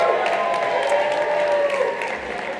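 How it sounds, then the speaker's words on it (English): An audience at a ski touring talk claps for a prize winner in sustained applause that fades slightly near the end, while a voice carries faintly over it. "let's give this gentleman a big round of applause"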